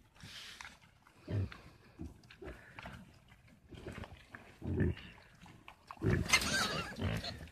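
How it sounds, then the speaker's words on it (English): A farm sow and her piglets grunt and snort in repeated short, close bursts with quieter gaps, while a person talks softly to them and wind gusts in near the end. "Hi, piglets."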